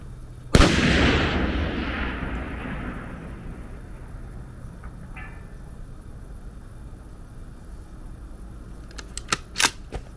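A single sharp, loud rifle report from a Savage Model 10 in .308 firing 175-grain bullets at a target past 1,000 yards, followed by a long rolling echo that fades out, with a few faint clicks near the end.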